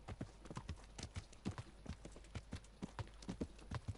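Horse hooves clip-clop in a steady, brisk rhythm in the medieval video game Kingdom Come Deliverance, close and distinct over a low constant hum, with no talk.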